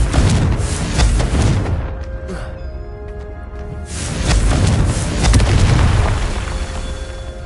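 A Confringo spell explosion in a video game erupts as heavy booming blasts, one surge early, a lull with faint tones, then another long rumbling roar.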